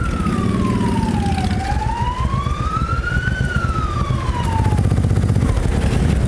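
A loud ambulance siren wails with a slow rising and falling pitch over steady traffic rumble, close by and continuous, at a motorcycle rally in Radawa.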